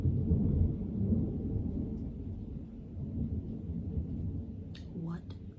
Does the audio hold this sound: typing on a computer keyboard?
no